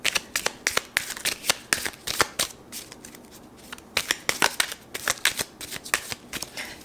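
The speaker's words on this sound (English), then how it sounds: "Let's go ahead and pull more clarification cards." Tarot cards shuffled by hand at close range, a series of quick riffling bursts and flicks in uneven rhythm, with short pauses as cards are pulled.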